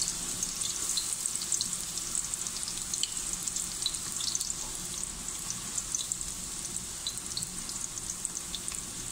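Garlic fries in hot olive oil with a bright, continuous close-up sizzle and dense crackling pops that hold steady throughout.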